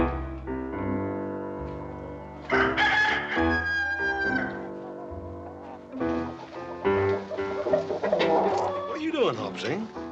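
Chickens cluck and squawk loudly and close by in a farmyard scene from a 1959 western series. A rooster crows among them, and the flurry of agitated calls comes in bursts over steady background sound.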